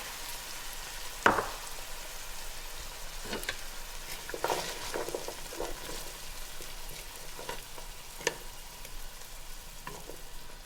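Chopped celery hitting hot oil in a pot, a sudden burst of sizzle followed by a steady crackling fry with occasional stirring knocks, moderately loud and without talk.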